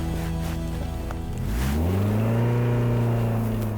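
An MG ZR car accelerating, its engine note rising sharply partway through and then holding a strong, steady revving drone, loud and close.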